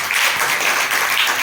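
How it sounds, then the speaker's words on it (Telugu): A gathering's audience claps together, a brisk continuous patter of many hands that runs evenly from start to end without speech over it. "ఒకసారి చప్పట్లు కొట్టండి"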